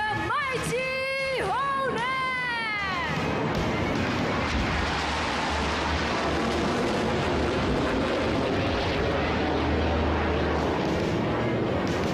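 A crowd at an outdoor national day air show, with an F-18D fighter jet roaring overhead as a loud, broad rushing blast that swells and holds for several seconds, after a voice with wavering tones at the start.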